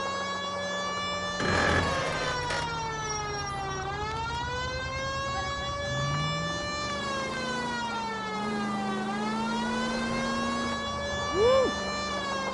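A wailing police siren in the video game LA Noire sweeps up and down repeatedly, loud and close, with a low engine hum beneath and a few brief bumps.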